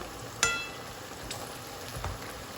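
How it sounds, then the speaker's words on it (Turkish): Peppers frying in hot oil for pickles, stirred now and then with a slotted spoon: a steady sizzle with a sharp metal clink near the start and softer stirring scrapes later. "Siz böyle başında kevgirle bekleyin. Ara ara şöyle karıştırın"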